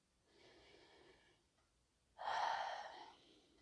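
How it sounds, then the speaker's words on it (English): A person breathing deeply and slowly, a soft drawn-in breath followed by a louder, fuller exhale, close and alone in a quiet room. "I need to breathe a little bit."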